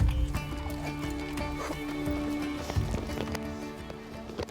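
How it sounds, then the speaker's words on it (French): Camargue horses being saddled with heavy Camargue work saddles, heard as hoof clops, shuffling and tack noises, fairly close, under a faint background hum with no clear talking. "Clotilde et Florence Manot préparent leurs chevaux."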